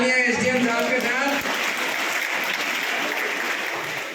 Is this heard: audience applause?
yes